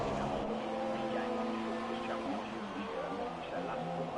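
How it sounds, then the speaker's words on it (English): A race car at the Australian Grand Prix on a wet track, its engine rising and falling as the driver feathers the throttle while the rear end slides out, with commentary talking over it. "You can hear him try and work that throttle to get the power down."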